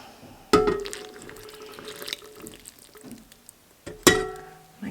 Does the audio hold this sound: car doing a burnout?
no